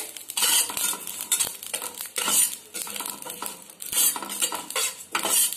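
Spice masala frying in a pan for a yogurt almond chicken dish, with a spoon scraping and stirring in repeated bursts over a soft sizzle, close and with no talk.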